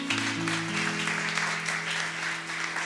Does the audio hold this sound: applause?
yes